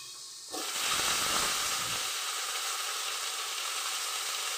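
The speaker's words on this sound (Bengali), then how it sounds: "ভালো করে ভেজে নেব মশলাটা" A sudden loud sizzle as spices hit a hot pan with drumstick stalks, then a steady crackling hiss of frying that continues to the end.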